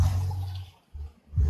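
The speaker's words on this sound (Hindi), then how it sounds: "ये देखो पानी का करंट, देखो भाई ये कहाँ से आ रहा है, ऊपर से पहाड़ों से पानी आ रहा है" A fast mountain stream fed from the hills rushes past near Pahalgam, a loud close roar of water that surges and dips.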